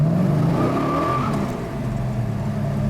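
A 1969 Dodge Charger Daytona with a 426 Hemi engine drives along, heard from inside as a loud, deep engine roar that rises in pitch as it revs, then settles.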